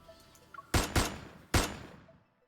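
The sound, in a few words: gunshot in a video game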